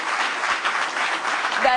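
Studio audience applause during a televised talk show taping in Jakarta, a short burst of even clapping at moderate level, with a brief voice near the end.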